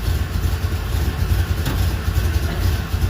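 A 1977 Chevy Camaro engine idles steadily up close with a loud, even low rumble as the transmission is moved between gears.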